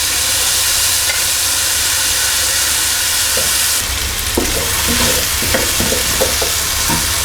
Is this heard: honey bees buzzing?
no